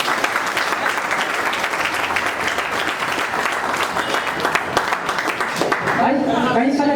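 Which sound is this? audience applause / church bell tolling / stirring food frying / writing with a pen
audience applause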